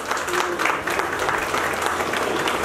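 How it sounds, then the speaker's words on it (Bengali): Audience applause at a felicitation ceremony, a dense wash of clapping that holds steady throughout at moderate loudness. "একটু জোরে হাততালি হবে"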